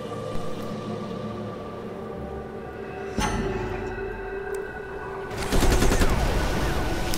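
Bursts of rapid game gunfire in Civilization Beyond Earth, a steady crackle of shots that grows denser and louder toward the end, with no talking over it.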